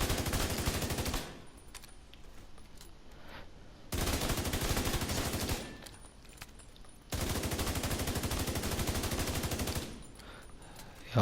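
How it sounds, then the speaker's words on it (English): Bursts of automatic gunfire at the shooting range in The Division 2, in three sustained volleys of a second or more each, separated by quieter gaps, loud and close with no talk. "you can let the shooting range fire at you to actually take all your armor off"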